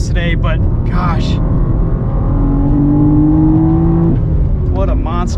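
A 2023 BMW M4 CSL accelerating hard on a race track, engine note rising steadily in pitch as it revs, heard from inside the car with a continuous loud drone and people talking over it at the start and end.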